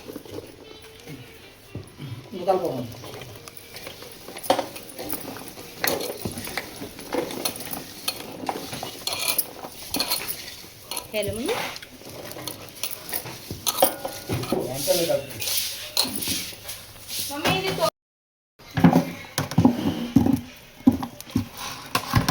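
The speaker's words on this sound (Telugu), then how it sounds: "ఇప్పుడు మామిడికాయ ముక్కలు ఉన్నాయి కదా, మనం దాంట్లో కలుపుకుంటూ వేసుకుందాం" Raw mango pieces mixed by hand into a spice mix for Telangana-style mango pickle, giving close, repeated wet squelching, scraping and occasional clinks of the vessel in uneven bursts, with a brief silent gap near the end.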